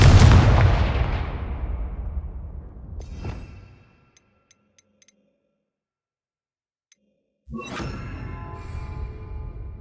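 A Confringo fire spell blast in Hogwarts Legacy lands as a loud, booming explosion that rumbles and fades over several seconds, then near silence, then a sharp second crack with a ringing tail.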